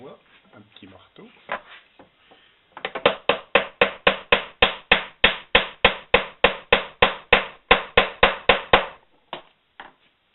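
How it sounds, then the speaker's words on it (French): A small hammer taps on a wooden block to force a metal hoop piece into place: a long run of steady, evenly spaced sharp knocks, close and loud, preceded by a few scattered lighter taps. "Alors, pour ce faire, je vais taper sur du bois, un petit marteau."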